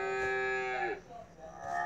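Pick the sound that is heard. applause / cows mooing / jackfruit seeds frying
cows mooing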